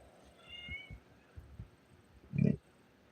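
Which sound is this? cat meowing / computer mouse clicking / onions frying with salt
cat meowing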